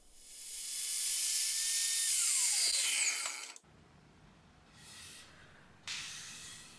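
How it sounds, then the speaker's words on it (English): A power saw cuts wood for new furniture legs, a loud rising whine that winds down after a few seconds, followed by quieter handling noise and short bursts of hiss. "So I measure it up, get it under the saw, and hopefully it will fit in place."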